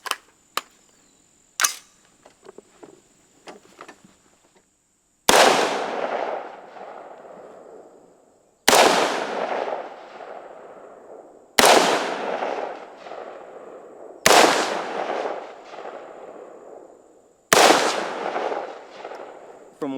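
Five gunshots fired at a target 50 yards away during a rifle trigger test, loud sharp reports spaced a few seconds apart, each with a long decaying echo, after some faint handling clicks.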